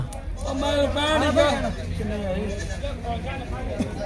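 Goats bleat at a Monday livestock market in Bargari, with several wavering, rising and falling calls sounding loud and near over a constant crowd murmur and background chatter.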